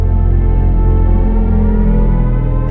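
A BMW i5 electric car's expressive-mode driving sound, a dense, sustained synthetic drone, loud and steady with rich low harmonics throughout.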